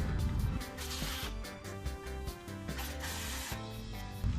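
A ratchet clicks in quick repeated bursts while tightening the two 10mm bolts holding the ABS sensor on a Honda Prelude front suspension, close and moderately loud with brief pauses between runs.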